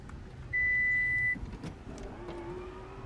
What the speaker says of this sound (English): Power tailgate.